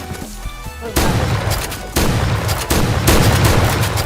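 UTS-15 shotgun in Point Blank firing rapidly, loud booming blasts about once a second with dense crackling tails, heavy and close with no talking.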